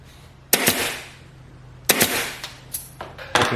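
A Metabo HPT 23-gauge pin nailer driving pins into foam, a few sharp pneumatic snaps spaced apart with short hissy decays, close and loud, with no voices.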